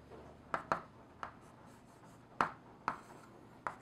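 Marker or chalk strokes of someone writing out a math equation, a handful of short scratchy taps and swipes spaced irregularly, close and fairly quiet against a faint room background with no talking.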